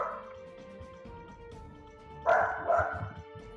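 A happy dog barks in a short burst of two or three loud yips near the end, over a background of low murmuring and faint sounds.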